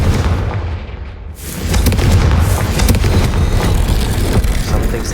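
A Confringo fire spell from Hogwarts Legacy erupts in a loud booming blast, followed by a sustained roaring, crackling rumble that stays strong and close for several seconds.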